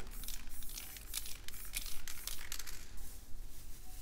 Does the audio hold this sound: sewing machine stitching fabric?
no